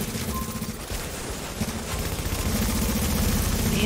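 Sustained automatic gunfire from a firefight in the video game The Division, loud bursts of shots rolling continuously and building in density toward the end, with no talk over it.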